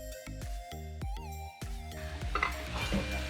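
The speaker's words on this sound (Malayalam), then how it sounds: "ഈ ജാറിലേക്ക് നമ്മളിപ്പോൾ തൊലിച്ച ചക്കക്കുരു ഇടണം" Peeled jackfruit seeds dropping into a blender jar, a series of hard clinks and knocks with ringing resonance, about half a dozen distinct hits followed by clattering rattles, close and clear with no talking.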